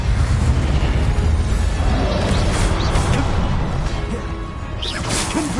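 The Incendio fire spell in Hogwarts Legacy bursts with a loud, continuous roaring whoosh of flame and explosive rumble, filling several seconds before tapering slightly.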